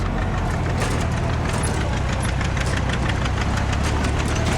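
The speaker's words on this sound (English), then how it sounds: "So we got Justin on the John Deere 8 coming up." A John Deere 8 tractor engine runs steadily at close range while plowing, a loud, constant diesel drone with a knocking texture and no talk.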